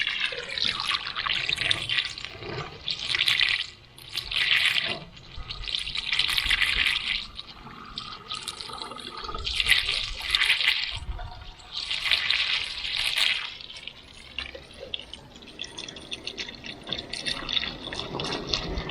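Water and coolant poured as a 50-50 mix into a can for a Mk3 Cortina with a blown head gasket, a steady liquid fill rising and pausing in several bursts, fairly close.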